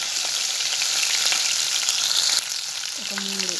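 Tempering spices and coarsely crushed garlic sizzling in hot oil for mango pickle, a loud, steady close-up frying hiss with faint stirring clicks and a short scrape near the end.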